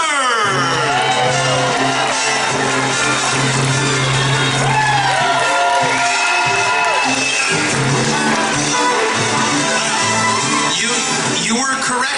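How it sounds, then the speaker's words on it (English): A crowd at the Rockin Burger block party cheers, whoops and shouts loudly and continuously, a dense wash of voices with some calls rising above it. "that big applause from you guys here at our Rockin Burger Block Party"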